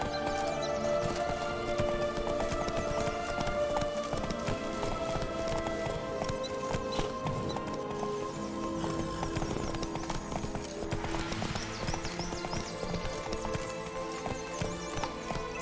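A horse gallops with steady rapid clip-clop hoofbeats and an occasional whinny in The Witcher 3: Blood and Wine, set against continuous game music and ambience.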